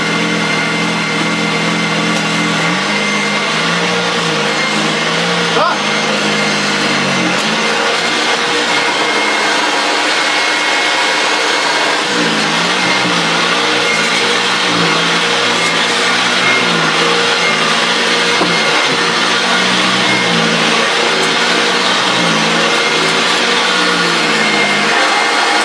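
Old Hoover Junior 1346a upright vacuum cleaner, still unrefurbished, running continuously with a loud, close motor whine and rough rattling undertone that wavers slightly in pitch over the whole stretch.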